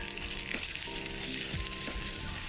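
Aloo kalonji naan cooks on a hot griddle with ghee brushed on, giving a steady, loud, continuous sizzle and crackle with a few soft scraping touches and no talking.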